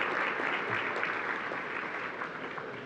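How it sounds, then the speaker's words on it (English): A crowd at a county chamber of commerce dinner applauds the sponsors, a dense, even wash of clapping that carries steadily at moderate volume with no voices over it. "So let's have a round of applause for our sponsors."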